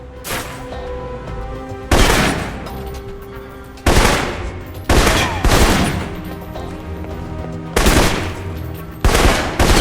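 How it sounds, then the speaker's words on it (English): Assault rifle fire in Alpha Protocol: several sharp, loud bursts of automatic shots spaced a couple of seconds apart, each ringing out briefly over a low ambient game background. "For long-range encounters, the assault rifle's the key. It's accurate, powerful."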